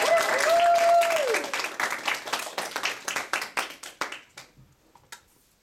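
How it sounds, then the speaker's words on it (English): An audience claps for a presenting team, loud and dense at first, over a brief whistle-like tone, then thinning to a few separate claps that die away. "we need to give them a round of applause and encouragement"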